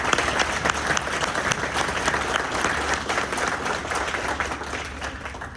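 Sustained applause welcoming guests at a ceremony, a large crowd clapping steadily and evenly throughout, fairly loud and close, with a low hum underneath.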